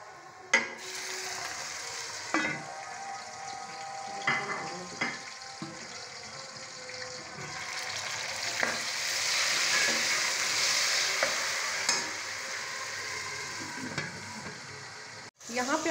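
Onion sizzles steadily in a pan as tomato, green chilli and ginger are stir-fried for potato and pea rice, with a spatula scraping and clicking against the pan at intervals over the continuous frying hiss.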